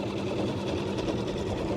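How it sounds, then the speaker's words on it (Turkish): A six-horsepower outboard motor idles on a small three-piece modular fishing boat out on the water, giving a steady, close, rapid mechanical chugging that runs without a break. "Altı beygir motorda şu an ben rölantide gidiyorum tabi."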